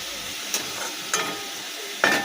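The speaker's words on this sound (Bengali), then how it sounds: "শাক ভাজা বসিয়ে দিচ্ছি" Chopped greens fry in a pan with garlic, onion and dried chilli tempering, giving a steady soft sizzle broken by three sharper stirring scrapes, close and fairly quiet, with no talk.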